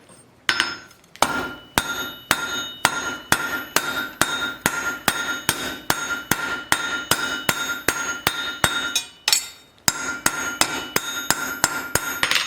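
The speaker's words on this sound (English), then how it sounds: "you need flat hammer blows for the rivet to begin with" Steady, evenly spaced flat hammer blows ringing on metal while riveting blacksmith tongs, loud and close, about two strikes per second with a brief pause partway through.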